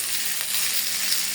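Koi fish frying in hot oil, a steady bright sizzle held evenly throughout the short stretch, close and fairly loud with no voices.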